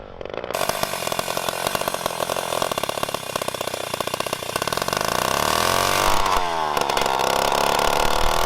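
A vintage chainsaw engine fitted to a motorized bicycle with a belt drive and pulley runs loud and close, a rapid buzzing two-stroke putter. Its pitch rises and sweeps as the engine revs up near the end.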